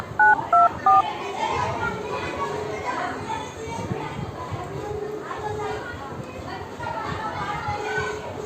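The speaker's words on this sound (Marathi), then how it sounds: "आपल्या आजीला फोन लावूया" A mobile phone keys a call to grandmother with three quick dialing tones at the start, followed by children's chatter and playful voices in a home, talk continuing throughout.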